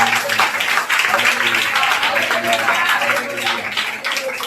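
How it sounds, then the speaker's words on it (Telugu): A church congregation at a fasting and revival gathering claps together, a dense, continuous burst of many hands close by, with a preacher's voice speaking over it. "చప్పట్లు కొట్టి పరిశుద్ధాత్మ"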